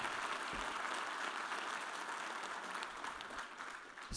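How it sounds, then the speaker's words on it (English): An audience at a panel discussion applauds continuously, a steady, fairly distant patter of many hands lasting throughout without talk over it. "Let's applaud the Human Village."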